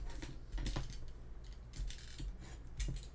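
Scissors snip the corners off a paper cover for a handmade accordion mini album, short crisp close cuts repeating in a quick uneven rhythm.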